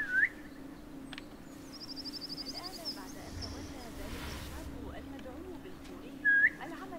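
Short rising whistles from a character in Assassin's Creed Mirage, one at the start and one near the end, over steady game ambience with a faint bird trill in between.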